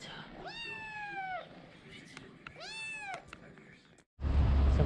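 A cat outdoors in Provence lets out two clear, drawn-out meows about a second apart, close and distinct, before a sudden loud burst of noise cuts in at the end.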